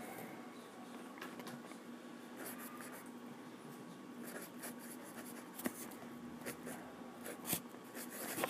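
Pen scratching across paper as attack notes are jotted down during a tabletop game session, a steady quiet scribble with brief taps and pauses, close and low with faint room hum behind it.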